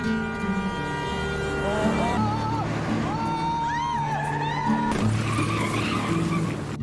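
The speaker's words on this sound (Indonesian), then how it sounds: "Dan terjadi kecelakaan." A car skids at night as the driver, panicked by a reckless vehicle, loses control just before a crash; rising and falling tire squeals ring out over loud music in a film scene.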